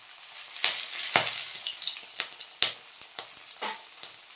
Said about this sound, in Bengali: অনেক কষ্টে লঙ্কা ভাজলাম